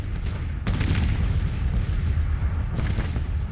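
Artillery booms roll across a Civil War battlefield in the strategy game Grand Tactician: The Civil War, heavy low rumbling salvos with bursts near the start and again toward the end, loud and continuous with no talk.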